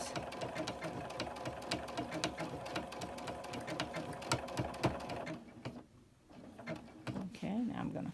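Sewing machine stitching a Halloween table topper quilt, a steady rapid needle rhythm running close for about five seconds, then a brief pause and a restart, with light mechanical clicks.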